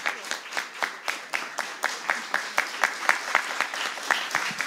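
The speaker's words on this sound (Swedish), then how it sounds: "en applåd." Audience applause at a closing award ceremony, a sustained run of brisk, evenly spaced claps filling the room at moderate volume with a few voices mixed in.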